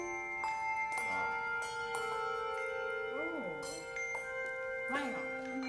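Handbells struck with mallets in a music class ring out in a scatter of clear, sustained tones, several overlapping and decaying, with a few sharper strikes spaced a second or so apart.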